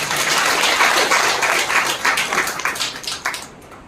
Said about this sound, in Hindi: अपने लिए ताली बजा सकते हैं,